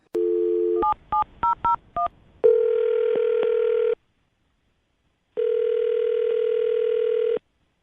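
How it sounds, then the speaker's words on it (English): Telephone dialing on a radio show: a dial tone, then a quick string of touch-tone beeps, followed by long ringback tones separated by silence, clean and loud. "I'm gonna dial her phone number right now"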